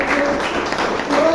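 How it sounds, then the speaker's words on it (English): Applause from the audience at a Toastmasters club meeting in Bangalore, a brief steady wash of clapping under a voice. "Give a round of applause for the Toastmasters."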